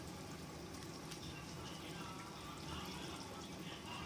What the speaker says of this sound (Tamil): இப்போ வந்து குழம்பு நல்லாவே கொதித்து வந்துருச்சு.